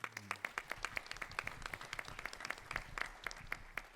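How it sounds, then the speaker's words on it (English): Applause from a small audience at a talk on fathers and the criminal justice system: a sparse, uneven patter of claps, moderately near, continuing steadily without speech. "I definitely want to give a round of applause to you guys for being a partner with us"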